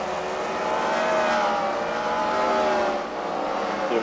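Race cars in a CWRL fight night main event at The Freedom Factory roar continuously around the track, engines droning with shifting pitch as cars chase each other, loud and steady with no talk.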